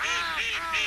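A young pelican gives a run of harsh, nasal, honking calls, loud and close, repeating quickly in short rasping bursts with no talk over them.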